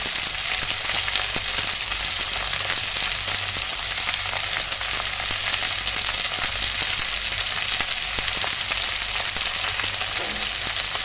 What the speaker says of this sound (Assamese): আৰু এতিয়া এইখিনি ভালদৰে ভাজি ল'ম